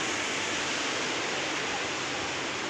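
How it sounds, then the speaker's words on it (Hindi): Water gushes from several pipes at an outdoor spot on a walk in Delhi, a steady, loud, broadband rush that holds unchanged throughout with no talk. "अब देखो भाई कितनी पाइपें हैं ये सारा पानी यहाँ से आता"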